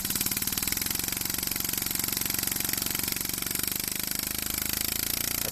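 A small model runner steam engine runs steadily, giving a fast, even, rapid chuffing beat that stays loud and close throughout with no pauses.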